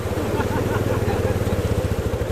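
A motorbike rides through floodwater on a flooded village road, giving a loud, close, steady engine drone that holds unbroken throughout.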